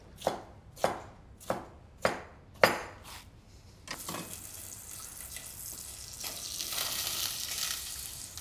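A knife roughly chops red pepper on a board with five evenly spaced, sharp, close thuds, then a soft continuous frying hiss rises and grows as the chopping stops.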